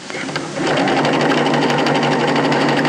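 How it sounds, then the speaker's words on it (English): A sewing machine stitches a seam while sewing a pocket into a garment seam. After a brief start, the close motor settles into a steady, fast whirring drone. "get ready on the other end to continue your sewing"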